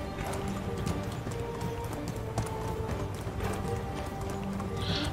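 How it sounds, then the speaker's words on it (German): Horse hooves clip-clop steadily in the medieval survival game Medieval Dynasty, a continuous trotting rhythm at moderate distance with a brief whinny near the end over ambient game sounds. "Pferd."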